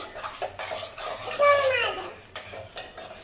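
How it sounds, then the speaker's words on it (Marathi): A spoon clinks and scrapes against a pot as milk is stirred for sabudana kheer, with irregular metallic knocks and a voice speaking nearby. "दूध चांगलं असं हलवून घ्यायचं"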